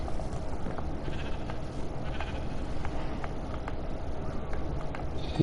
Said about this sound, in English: I could breed some sheep.